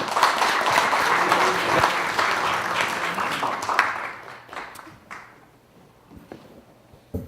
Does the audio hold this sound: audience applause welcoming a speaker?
yes